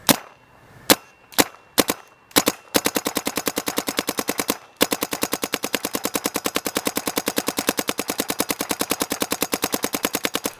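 Proto PM6 paintball marker firing: a few spaced single shots, then long, rapid, evenly paced strings of sharp pops, loud and close with no voices.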